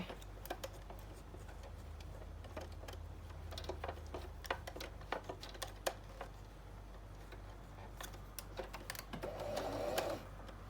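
A sewing machine stitches fabric ruffles: a steady low motor hum under rapid, uneven mechanical ticking, quiet and close, with no voices.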